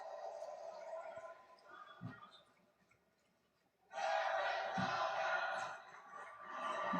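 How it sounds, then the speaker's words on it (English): A crowd at a political convention cheers, first a moderate roar that fades to a lull, then a sudden loud swell of cheering and shouting from a distance, with faint thumps in between. "People are cheering."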